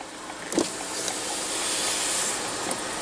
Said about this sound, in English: Automatic driver's side window.